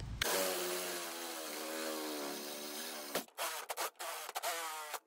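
Power drill enlarging three holes to 1/2 inch with a 1/2 inch bit in a pontoon boat door latch installation, a steady loud whine running about three seconds, then several short bursts as the bit is restarted.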